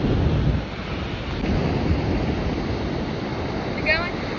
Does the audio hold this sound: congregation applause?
no